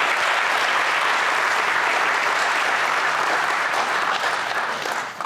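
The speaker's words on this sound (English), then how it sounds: "So also a round of applause for our 10 directors this year." A theatre audience claps for the directors at a live event, dense sustained applause that fills the room evenly for several seconds before beginning to thin out.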